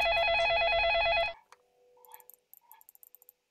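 Telephone ringing in the video game Façade: a loud electronic ring with steady warbling tones for over a second, then cut off, followed by faint clicks and small blips.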